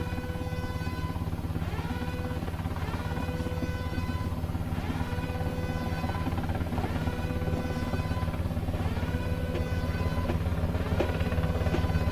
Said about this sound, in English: Yes, that's a helicopter.